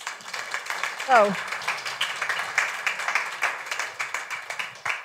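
An audience applauds a speaker at a climate-policy livestream, with continuous clapping from many people at moderate volume and a brief spoken word heard over it.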